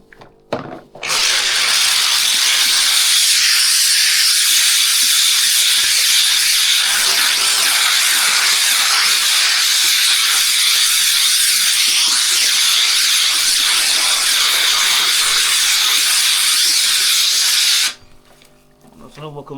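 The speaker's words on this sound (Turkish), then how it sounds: "Ondan sonra şu şekilde buharımızı vuruyoruz." A steam cleaner blasts a loud, steady hiss into sofa upholstery during a detailed couch washing job, running continuously for most of the stretch before cutting off near the end.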